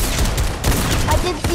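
Rapid bursts of AK rifle fire in a first-person shooter video game, loud and continuous over about a second and a half with a busy mix of game effects.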